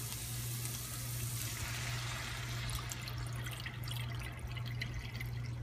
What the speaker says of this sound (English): We're going to add about a cup or a cup and a half of Riesling wine.